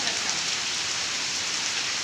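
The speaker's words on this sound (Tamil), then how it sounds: "இவ்வளோ மழை இருக்காணி?" Steady heavy rain falls without pause, a dense even hiss close by with no other sounds.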